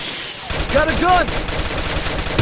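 Rapid automatic gunfire in the Free Fire mobile video game, with loud, evenly spaced shots close up and a short voice call partway through.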